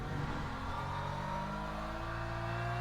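The onboard engine of the race leader's BMW in a racing video game, a steady, loud, sustained drone heard close from the cockpit with slight shifts in pitch and no talk.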